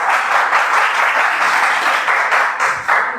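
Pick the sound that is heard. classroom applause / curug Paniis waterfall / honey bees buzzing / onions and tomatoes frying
classroom applause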